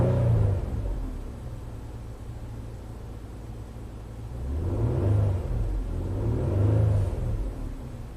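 A Nissan car engine with an intermittent alternator fault is held at raised revs, a steady close rumble that swells twice in slow surges, alone with no talking.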